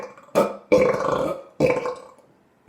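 A man lets out several loud, close burps in a row, with short gaps between them. One drawn-out belch sits in the middle of the group.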